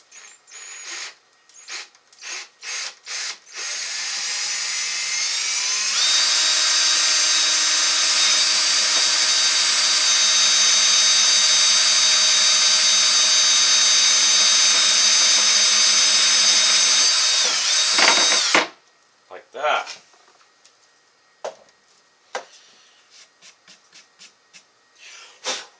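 A few short bursts of a power drill, then a long, loud continuous whine as it bores through hickory before stopping, followed by scattered clatter.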